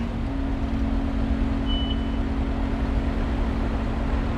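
Steady diesel drone of a tractor engine in Farming Simulator 22, hauling a loaded manure spreader; a constant low hum with a steady tonal whine, idling or cruising evenly throughout with no talk.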